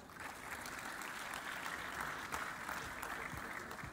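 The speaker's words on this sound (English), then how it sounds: "Please clap for her, she comes up." An audience at a corporate business event applauds steadily for about four seconds, a dense, even wash of clapping from many hands at moderate distance.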